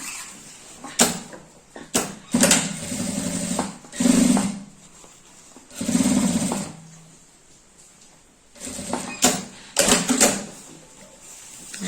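A home sewing machine stitches a sublimated zippered pouch with a clear vinyl window, running in several close, loud bursts separated by short pauses.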